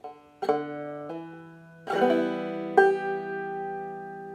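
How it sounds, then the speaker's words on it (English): Clawhammer banjo notes on the 4th string, including a hammer-on: a few distinct plucked attacks with ringing bright overtones, the first quieter and the later ones louder, each decaying slowly, played alone up close. "the hammer on the 4th string"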